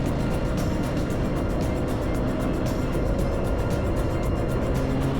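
A vintage Honda Trail 90 motorcycle engine drones steadily and loud on a race track, with a dense rumble and fast pulsing, heard close and continuous as it passes; no speech.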